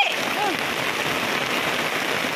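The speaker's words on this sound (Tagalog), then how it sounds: "Sas, ang lakas ng ulan, guys." Heavy rain pours down in a dense, constant hiss, drumming steadily on surfaces nearby, with a faint voice briefly heard at the start.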